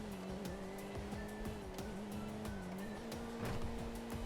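A car accelerating in GTA 5 during a race on a dual track, its engine drone steady and loud throughout, with a tonal whine holding and shifting slightly, occasional tire noise and clicks.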